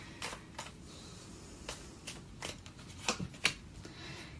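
Tarot cards are shuffled and handled up close, giving a series of soft riffling snaps and flicks at uneven intervals with a couple of sharper slaps near the end.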